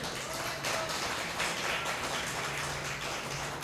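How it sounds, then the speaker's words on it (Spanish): A church congregation gives steady, dense applause during a sermon, a soft even patter of many hands heard somewhat distant and quiet throughout. "denle un aplauso al Señor"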